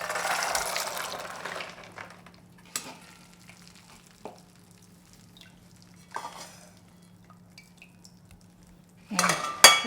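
Soaked black beans are drained in a kitchen: a brief rush of water pouring at the start, then quiet with scattered clinks and knocks of a bowl and strainer, ending in a louder clatter of dishes.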